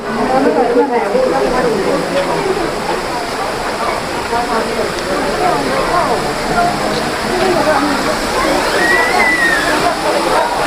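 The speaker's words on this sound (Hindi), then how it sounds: "ये वही वाटरफॉल लोग एंजॉय करते हैं, रील्स बनाते हैं।" A waterfall at the Rock Garden in Chandigarh gives a loud, constant rushing roar that fills the whole stretch, with voices mixed in.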